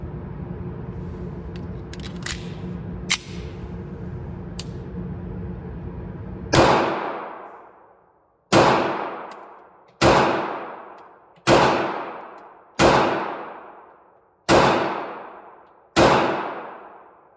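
A subcompact pistol fires 115 grain competition loads at an outdoor range: seven loud, sharp shots, each with a ringing decay, spaced roughly one to two seconds apart after quieter handling clicks.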